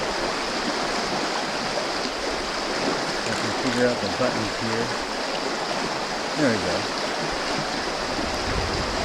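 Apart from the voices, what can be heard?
stream of moving, tumbling water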